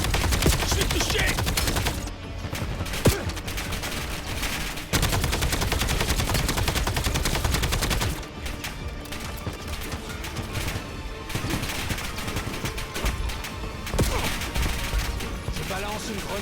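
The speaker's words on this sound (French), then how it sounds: "Je me fais tirer dessus." Dense, loud gunfire from the video game Call of Duty Black Ops 7 is almost continuous: rapid automatic bursts and heavy impacts with brief dips, thick with battle noise throughout.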